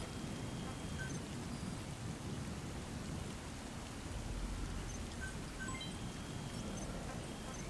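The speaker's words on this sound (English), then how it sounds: "Sound of rainfall should help to mask your footsteps." Steady, heavy rainfall in the Metal Gear Solid video game, a dense unbroken hiss with low rumbles like distant thunder and no voices.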